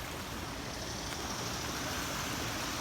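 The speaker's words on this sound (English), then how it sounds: "Look at the water flowing down here, how fast it's going." Broad, steady rushing of the fast-flowing Cross Creek river, constant and fairly loud with no pauses or voices.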